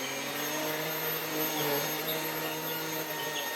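A Philips U800 vacuum cleaner runs in turbo mode with a steady, loud, close motor whine and airflow hum that hold constant throughout.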